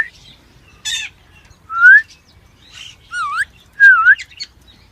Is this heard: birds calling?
yes